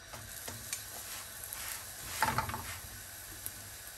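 An egg paratha sizzles in a hot pan as it is turned, a steady fry with light scraping and clicks and a brief louder rustle in the middle.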